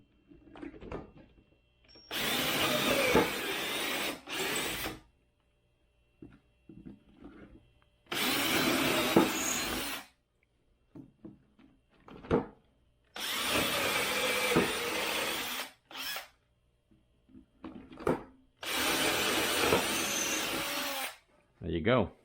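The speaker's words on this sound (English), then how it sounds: "what I'm going to do is I'm going to go ahead and drill my 4 holes." A power drill with a 1/4 inch bit bores four holes for mounting hardware on a gas roof pump proportioner build, four loud sustained bursts of a few seconds each separated by pauses with brief clatter.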